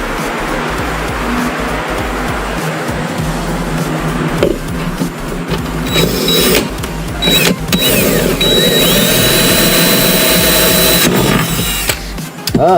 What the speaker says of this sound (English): I have to drill out this other side though.